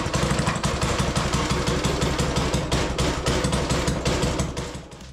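A custom-built go-kart engine fires up and runs roughly, its loud, steady, rapidly pulsing putter continuing up close before dropping off slightly at the end.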